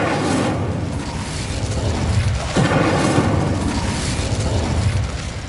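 Booming fire-spell blast in Hogwarts Legacy on PS5, a loud sustained roar of flame and rumble with a sharper burst partway through, filling the whole stretch.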